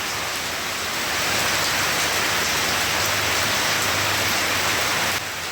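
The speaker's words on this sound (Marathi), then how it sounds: "वाटलं नाही की एकदम असा एवढा अचानक पाऊस येईल आणि ढग पण गरजत होते" Heavy, sudden unseasonal downpour on a Monday afternoon, a dense, steady roar of rain hitting surfaces that stays loud and unbroken throughout, with no voices.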